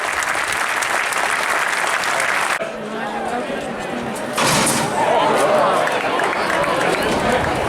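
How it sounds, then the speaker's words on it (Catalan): Loud crowd applause at a tribute ceremony in Santa Bàrbara, Catalonia, in July 2021 keeps up steadily, with voices talking over it and the sound shifting abruptly partway through. "Un fort aplaudiment."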